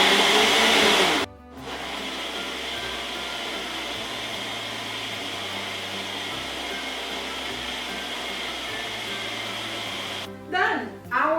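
A blender whirring steadily for about nine seconds while making a pink iron-boosting smoothie for a baby, a loud even motor hum that starts and cuts off abruptly, with brief voices at each end.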